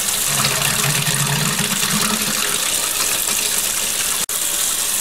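Water gushes loudly and steadily from a hot water tap fed by a tankless water heater being purged after a lime and scale cleaning, with a brief low gurgling sputter near the start and one momentary cutout.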